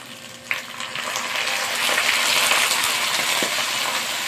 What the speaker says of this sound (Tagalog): Ilalagay tayo ng konting suka.